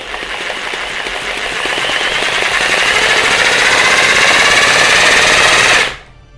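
A rotary hammer drill for concrete walls runs in drill plus hammer mode, giving a loud, close, continuous rapid hammering rattle that holds steady for about six seconds and then cuts off abruptly. No voices are heard.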